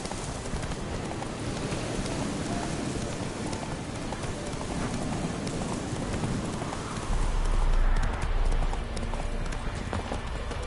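A horse gallops in the Witcher 3 video game, with continuous fast hoofbeats over a dense, rain-like wash of background noise and a brief low rumble near the end.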